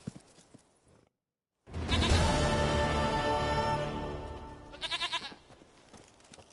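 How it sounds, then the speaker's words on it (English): Goat in The Witcher 3 game world gives a loud, drawn-out bleat after a short silence, followed by a quick trail of wavering higher bleats near the end. "Goat of mine, dearest, sweetest goat."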